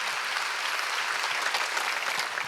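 A church congregation at a Sunday service claps in a dense, continuous burst of applause that fills the room evenly from start to finish, with no voices above it.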